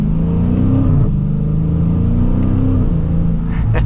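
A Dodge Challenger R/T Scat Pack with the 392 V8 accelerates from inside the cabin, its loud deep engine drone rising in pitch, briefly dropping at a gear shift around one second and again near three seconds, then climbing again.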